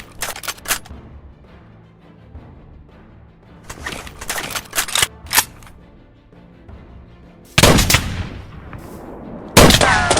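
Gunfire in a Minecraft war game, sharp bursts of shots in clustered volleys separated by quieter gaps, with two heavy, loud blasts late on and no talking.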